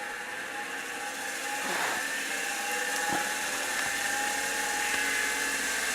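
Hacked Apple II hard drive spinning up after being powered on, giving a steady, continuous high whine and whir that holds for several seconds with small clicks and ticks on top, with no one talking.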